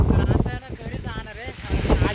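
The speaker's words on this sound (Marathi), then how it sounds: "वारा आणि पाऊस इतका सुटलाय ना आता" Strong wind gusts of a first monsoon rainstorm buffet the microphone in a steady roar, with a faint voice barely audible underneath.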